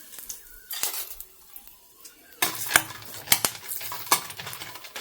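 Four dry Byadgi chillies are stirred with half a spoon of oil in a pan on an induction stove, with a utensil scraping and clinking against the pan in quick irregular strokes close by under a soft sizzle.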